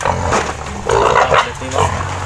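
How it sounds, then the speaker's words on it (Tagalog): A pig grunts in a few rough bursts close by against a steady, noisy farmyard background, with no one talking over it. "Magwapa ka itong baboy, ah."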